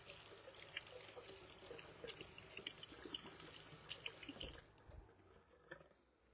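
A kitchen tap runs steadily while a dropped utensil is rinsed under it, a soft close splashing stream that stops abruptly near the end, followed by a few faint drips.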